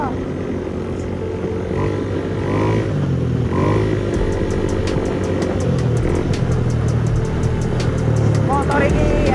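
A motorcycle rides along with a steady engine drone and road and wind rumble, the pitch shifting slightly, while riders talk over it.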